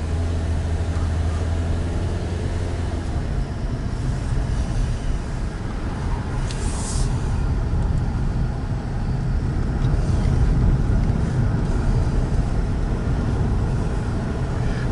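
A Toyota Corolla, just repaired for a no-throttle-response fault, climbs a hill, its engine and road noise forming a loud, steady rumble from inside the car.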